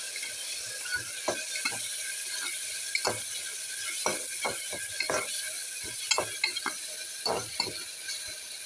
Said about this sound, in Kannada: ಇವಾಗ ಟಮಾಟೊ ಹಣ್ಣು ಹಾಕೋತಿದ್ದೀನಿ ರೀ